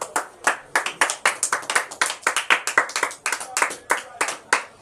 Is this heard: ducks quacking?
no